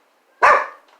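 One loud, close bark from a dog stirred up by noises outside, a single sharp yelp that trails off quickly into quiet.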